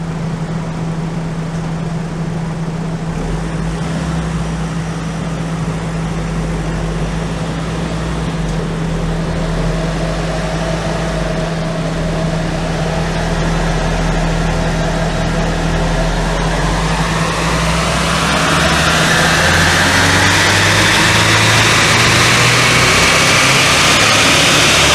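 A Renault Espace 2.2 diesel engine runs on a dyno, a loud steady drone that builds gradually as revs climb toward the end, with a deep low hum underneath and rising roar on top.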